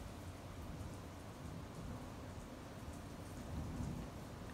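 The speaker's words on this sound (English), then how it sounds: "the thunder's bad, and it's pouring rain." Heavy rain pours steadily during a thunderstorm, with low rumbling thunder swelling near the end, continuous and fairly close with no voices.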